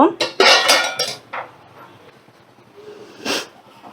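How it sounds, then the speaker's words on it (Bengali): A lid comes off a pot of cooking khichuri with a quick run of loud metallic clanks and rattles, then quiet, and one more clatter near the end. "এবার দেখো আমি ঢাকাটা তুলে নেব।"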